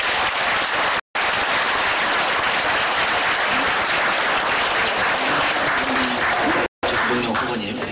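A studio audience applauds after a candidate's closing remarks in a televised presidential debate, loud, steady clapping that fills the room, cut by two brief silent gaps.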